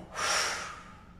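A single forceful exhalation during a yoga breathing exercise, a close, breathy rush of air that swells quickly and fades over about a second, with no talking.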